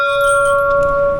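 A temple bell at a Shiva shrine in Nepal rings loud and near, one sustained metallic tone humming steadily with bright overtones.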